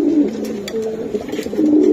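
A racing pigeon coos repeatedly in soft, throaty low calls, close by, with faint background rustling throughout.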